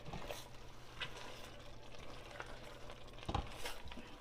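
Chili chicken is stirred and mixed in a frying pan, with a soft steady sizzle and occasional scraping strokes of the spoon, quiet and close.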